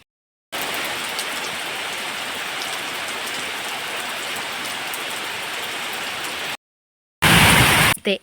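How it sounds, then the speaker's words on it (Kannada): Steady heavy rain pours down in a dense, even hiss, cutting off abruptly, then a brief louder burst of rain near the end. "ಮಳೆ ಎಷ್ಟೊತ್ತಿಗೆ ಬಂದಿದೆ ಅಂದರೆ ಐದು ಹತ್ತಕ್ಕೆ ಬಂದ ಮಳೆ"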